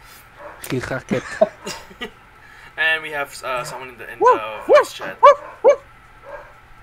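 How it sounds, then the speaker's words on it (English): A dog barks and yips in the background, a series of short sharp barks clustered toward the end, some close and loud, interleaved with someone talking. "you can hear the dog in the background"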